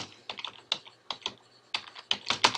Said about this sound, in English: I'll type in Scoodle